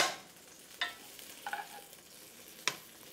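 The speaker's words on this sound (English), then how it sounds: "we're going to let them simmer for about 20 to 25 minutes" Meatballs simmer in marinara sauce in a pan, a soft low sizzle broken by a few sharp utensil clinks as they are stirred, quiet and close with no talking.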